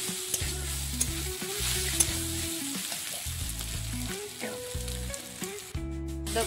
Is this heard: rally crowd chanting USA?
no